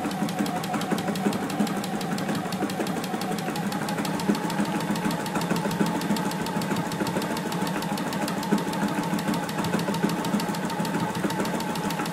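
A JUKI sewing machine stitches steadily around the edge of a fabric face mask, a continuous close mechanical whir with a fast, even needle rhythm and no talking.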